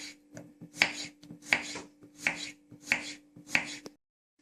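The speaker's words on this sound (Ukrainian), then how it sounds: "Я кабачки буду нарізати півкільцями." A knife chops zucchini into half-rings on a board with five evenly spaced crisp cuts, each a sharp thunk with a short scrape, close and clear over a faint steady hum, then silence.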